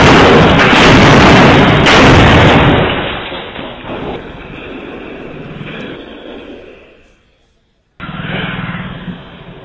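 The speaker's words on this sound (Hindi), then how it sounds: "देखिए, धमाके की आवाज है जो इस वक्त आप सुन रहे हैं।" Loud, rumbling blasts like bomb explosions fill the opening seconds, then fade into a lingering roar before the noise briefly cuts out and resumes.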